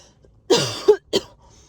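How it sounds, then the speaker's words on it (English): A close, sharp cough followed by a second, shorter cough, with a brief throaty catch between them, in an otherwise quiet room. "excuse me about the cough"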